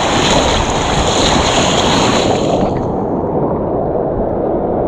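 Ocean waves wash loudly around a reef in open water, a continuous heavy roar of surf mixed with wind buffeting the microphone, steady throughout with no voices.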